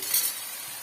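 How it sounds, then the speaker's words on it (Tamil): Tomatoes sautéing in a pan for bitter gourd curry, a soft, steady sizzle with a faint stirring scrape near the start, quiet and alone. "ஓரளவுக்கு வந்து தக்காளி பழம் வதங்கி வந்துடுச்சு"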